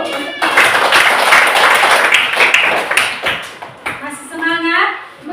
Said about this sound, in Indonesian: Oke, kita kasih tepuk tangan dulu.